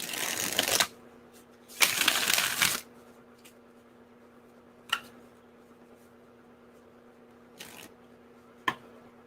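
A deck of tarot cards is shuffled against a seated person's leg. Two loud, close bursts of riffling cards are followed by a few sharp single taps, with quiet gaps between them and no talk.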